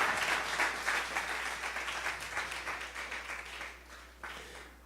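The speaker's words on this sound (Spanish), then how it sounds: "Dale ese aplauso al Señor." Church congregation applauding during a sermon, a dense burst of clapping that starts strong and gradually thins and fades, with a brief renewed swell near the end.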